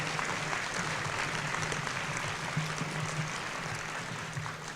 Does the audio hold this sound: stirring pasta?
no